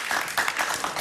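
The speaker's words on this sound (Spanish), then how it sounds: "Un aplauso para Dionisio." Brief burst of studio audience clapping for a talk show guest named Dionisio, a short dense patter of hands.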